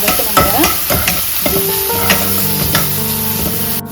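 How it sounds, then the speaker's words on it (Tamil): Ginger garlic paste sizzles loudly in a hot pan while a spatula scrapes and stirs it in uneven strokes, with steady frying hiss throughout and no voices. "இஞ்சி பூண்டு பேஸ்ட், இது எல்லாமே நல்லா பச்சை வாசனை போகிற வரைக்கும் நல்லா வதக்கணுங்க"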